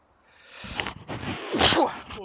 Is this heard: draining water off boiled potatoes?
no